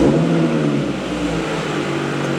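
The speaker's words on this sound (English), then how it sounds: "All right, first start up with the new exhaust." Audi B8.5 S5 engine cold-starting for the first time with a new AWE Touring exhaust, a steady, fairly loud idle drone that dips slightly after the initial start flare, with no talking.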